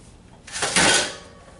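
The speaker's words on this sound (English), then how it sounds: "with 2 hands, bring it down, and we have our diced onions" A whole onion pressed down through the blades of an Edlund ARC XL slicer, giving one close, loud crunching cut that swells and fades within about a second.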